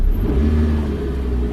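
A 2009 Chevrolet Matiz engine runs steadily at idle, a continuous low rumble with no voices over it, the car smoking from the rear.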